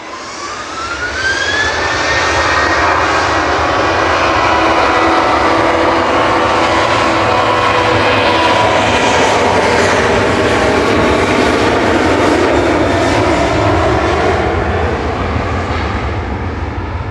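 Ryanair passenger jet departing Manchester Airport for Brussels, its engines building to a loud, sustained roar with a rising whine, steady and close for the whole stretch.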